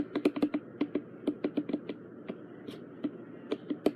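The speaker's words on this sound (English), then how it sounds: "it is making almost like a clicking sound" A wheel fitted with new bearings and snug lock nuts turns and gives off a quick, uneven run of dry clicks, close and fairly crisp, with no voices.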